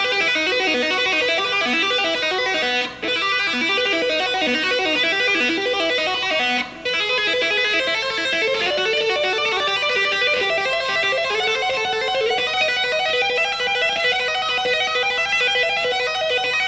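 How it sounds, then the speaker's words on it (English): A fast shred guitar lick played entirely on the second string, a continuous stream of rapid distorted notes at steady loudness with two brief gaps, close and prominent throughout. "maybe the entire lick on the second string would sound like this"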